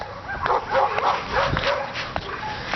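A group of dogs on a street barks and yips in rapid, overlapping bursts, moderately close, with sharper individual barks punctuating the chorus.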